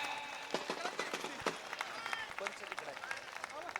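Spectators at a wrestling match break into scattered, uneven clapping, close and fairly quiet, with voices in the crowd mixed in.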